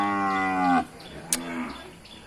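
A large-framed cow at a northern Thai cattle market gives one loud, close moo lasting under a second, then a quieter, lower second call follows, with no talk.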